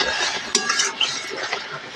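A pot lid lifted off a pan of cooking tomatoes, with short metallic clinks and scrapes of cookware close by, no talk.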